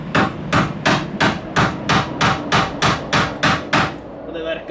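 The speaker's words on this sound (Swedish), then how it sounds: "Så vi ska ta och prova och knacka ur den." Hammer and chisel knocking out a worn inner camber-arm bushing sleeve on a BMW E91, about a dozen sharp metallic blows in a steady rhythm, loud and close with no talk.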